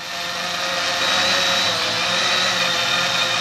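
A multi-rotor drone in flight, giving a steady, loud buzzing whine with a constant pitch that holds evenly from start to end, with no talking.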